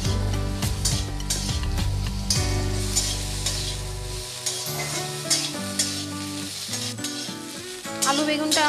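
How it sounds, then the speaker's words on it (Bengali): Diced potato and eggplant frying with garlic in a pan, a steady loud sizzle close by, broken by spatula stirs and scrapes against the pan, with no speech. "এই রসুনের সাথে আমি আলু বেগুনটা ভালো করে ভেজে নেব।"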